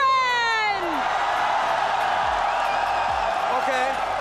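Arena crowd of fans at the Mobile Legends: Bang Bang Mid Season Cup 2024 grand finals cheering and whooping in a loud, steady roar throughout, with shrill voices rising over the din.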